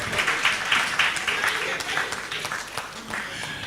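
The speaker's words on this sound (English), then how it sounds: "clap for them also." A crowd applauds at a town hall discussion on higher education, many hands clapping in a steady, fairly loud patter with a few sharper individual claps standing out.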